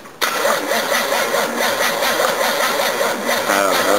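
A flooded 5.7 litre V8 cranks and catches abruptly, then settles into a loud, steady, throbbing run with a slight wavering note, heard close with no talk.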